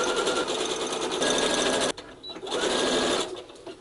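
A sewing machine stitching soldier costume pants, a fast steady close whirr that breaks off abruptly, then resumes briefly before fading out.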